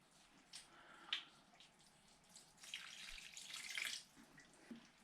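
Water pours from a tap into a cooking pot of beef heart with onions and mushrooms, a faint splashing flow with a few louder gushes, close and without talk.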